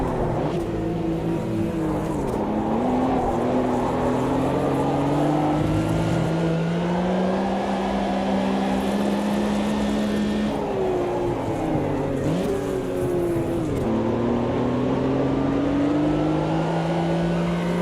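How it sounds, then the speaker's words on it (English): A Porsche race car engine roars steadily in a sim racing game, its pitch climbing and falling through gear changes and drifts. The sound is loud and continuous for the whole stretch, with no voices. "let's have some slidey fun in the Porsche"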